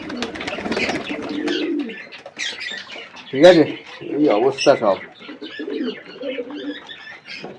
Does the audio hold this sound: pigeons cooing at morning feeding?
yes